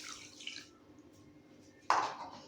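Water is poured into a pan to make sugar syrup for suji barfi, a short splashing pour arriving near the end after a quiet moment, close and clear.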